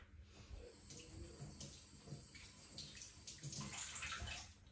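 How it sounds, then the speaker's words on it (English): Hands rinsed under a running tap, a steady hiss of flowing water with splashing that grows louder and busier toward the end. "I gotta rinse my hands off."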